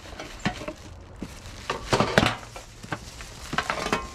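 A Two Zone Air Fryer Oven is lifted out of its box, bringing irregular cardboard rustles, thumps and plastic knocks at close range with no talking.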